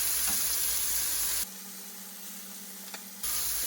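Chicken and onions sizzle in a hot pan with a steady hiss that briefly drops quieter, as if covered, and then swells back, with no talking.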